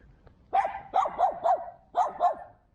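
A small dog in Sarajevo barks in a quick run of five or six yappy barks, close and fairly loud, with a short pause before the final pair.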